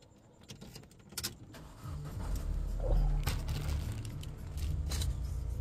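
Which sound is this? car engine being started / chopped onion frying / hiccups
car engine being started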